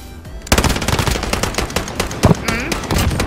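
Rapid automatic gunfire from a gun in a shooter video game, loud dense bursts of shots repeating close up, with a voice briefly underneath.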